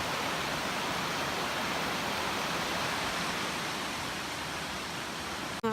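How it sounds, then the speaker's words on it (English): A small waterfall at a canoe portage rushes in a steady, broadband wash, moderately close and unbroken, with a brief knock near the end. "Got a little waterfall here."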